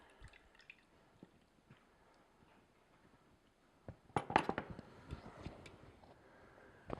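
Raspberry juice drips and trickles from a small fruit press, faint scattered drips at first, then a brief burst of wetter splashing and clicks as the press is tipped forward.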